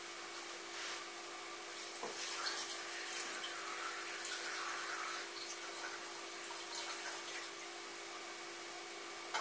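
Water pours steadily into a cooking pot for chicken broth, a constant moderate hiss and splash that runs unbroken for several seconds with no voices over it.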